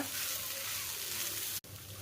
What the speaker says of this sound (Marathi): मस्त असं भाजला आहे मसाला सर्व